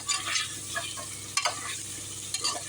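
Chicken for a pepper chicken fry being stirred in a hot pan, with a steady close sizzle broken by a few sharp scraping strokes of the spoon.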